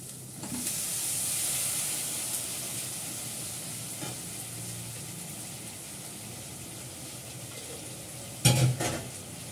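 Potatoes sizzle while being sautéed in a pan with meat for a Bengali curry, a steady close hiss with occasional stirring scrapes and a brief louder clatter of the spoon near the end.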